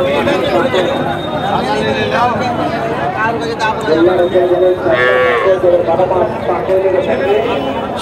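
Cattle moo repeatedly amid a busy cattle market in Chapai Nawabganj, Bangladesh, with people talking and chattering throughout; one loud, close moo stands out near the middle.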